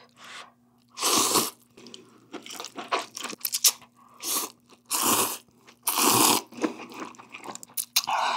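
Loud, close crunching and chewing of cup ramen noodles, with repeated crisp bites and munching in bursts separated by short pauses and no talking.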